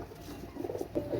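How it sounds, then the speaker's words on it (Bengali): A pair of Pakistani Sialkoti pigeons coo softly nearby, low murmuring calls swelling briefly toward the end over a faint steady background hiss. "এগুলো দেখেন একজোড়া পাকিস্তানি শিয়ালকুঠি কবুতর"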